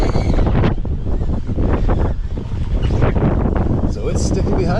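High wind buffets the microphone on an open, treeless trail while a HoverAir X1 ProMax drone follows in cycling mode, a loud steady roar of rumbling gusts throughout with a voice talking over it.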